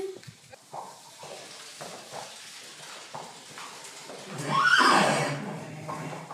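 A horse at a stable neighs loudly once, a rising then falling whinny near the end, after quieter snorts, shuffles and faint stable noises.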